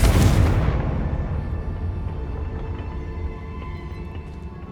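A loud close blast from the Confringo spell in Hogwarts Legacy, with a sharp onset and a long rumbling decay that fades over several seconds.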